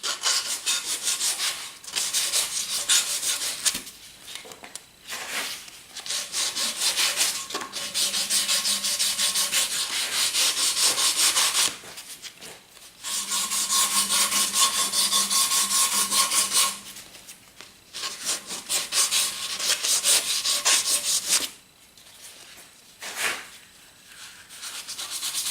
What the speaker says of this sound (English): it's actually with the hand sanding that the grip starts to actually feel alive in the hand